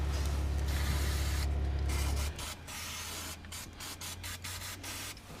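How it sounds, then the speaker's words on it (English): Penetrating fluid hisses from an aerosol can onto a rear air suspension part of a Citroen C4 Grand Picasso, a steady close spray for about two seconds followed by softer rubbing and scraping noises. "give it a good squirt of the penetrating fluid"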